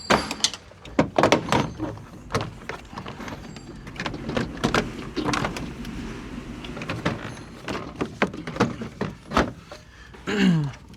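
A pry tool pops down the headliner trim inside a Nissan 370Z, giving a run of sharp plastic clicks and snaps, some close and loud, with rustling and handling noise between them.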